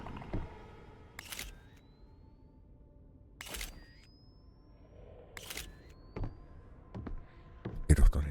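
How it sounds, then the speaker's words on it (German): Camera shutter clicks in the horror video game Visage, a few sharp snaps spaced apart, fairly faint over a quiet ambient background with voices talking. "Schieß ein Foto"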